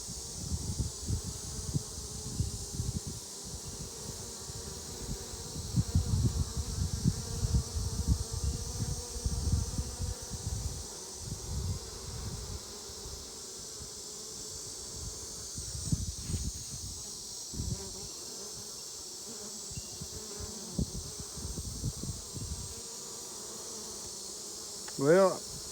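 A swarming honey bee colony buzzes close by in steady, rising and falling waves, loud at times and fading at others, with a faint constant background hiss.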